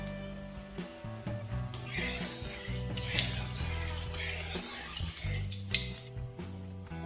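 Cumin, cloves, cinnamon and cardamom sizzling in hot oil for egg masala, a soft steady hiss with light crackles that swells midway, close and moderately quiet, no talking.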